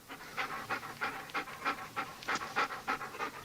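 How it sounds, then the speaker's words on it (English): A dog pants heavily and rapidly after running 23 miles, heard over a phone line: a fast, even series of breathy huffs, close and moderately loud, with no talk. "That, Sergeant, is the sound of a dog who's just run 23 miles."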